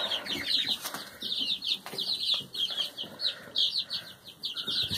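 Young chickens in a brooder corner under a heat lamp keep up rapid, high peeping and soft clucking nearby, mixed with light rustling and wing flutters.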